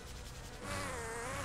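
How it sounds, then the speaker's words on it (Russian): A fly buzzing in the Persona 5 Royal video game: a close, steady insect drone that swells louder and higher about halfway through and then holds, with no talk. "Он стал мухой!"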